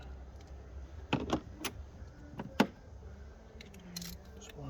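Wrench work on an Audi A3 engine while tightening a 13mm bolt, a handful of sharp metallic clicks and ratchet ticks in irregular bursts, close and fairly quiet.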